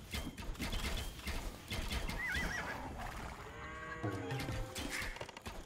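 Horse archers whinny amid hoofbeats and battle clatter in a real-time strategy game, with a clear neigh rising over busy, dense combat noise.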